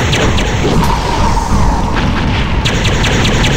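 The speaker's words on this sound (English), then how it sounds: "I'm going to let rip my laser cannons" Laser cannons on the Death's Head craft in the video game Hardwar fire in a loud, sustained roar of blasts with a few sharper bursts, heard alone with no talking.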